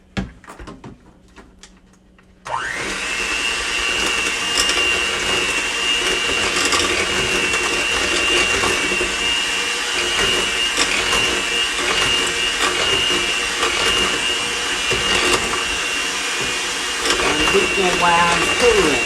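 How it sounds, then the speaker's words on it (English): Electric hand mixer whirring steadily through jam cake batter for a Southern holiday fruit cake, switching on abruptly after a brief quiet moment and running loud and continuous, with faint rattling from the bowl. "So I'm going to use the mixer"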